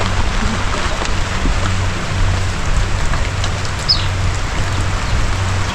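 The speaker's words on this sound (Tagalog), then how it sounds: "inabot ng ulan." Steady rain falls with a dense broadband hiss and a low rumble underneath, continuous and fairly loud throughout with no voices.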